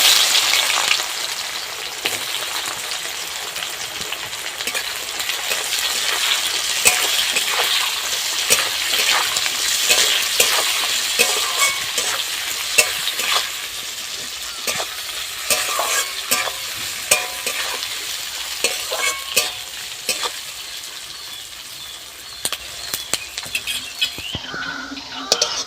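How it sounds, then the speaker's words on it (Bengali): Chopped onions frying in hot oil with whole cinnamon, cardamom, cloves, cumin, dried chilli and bay leaf for a mutton curry with potatoes: a loud, continuous crackling sizzle, broken by frequent stirring scrapes and clatters throughout. "পেঁয়াজটা একটু ভাজা ভাজা হয়ে গেছে"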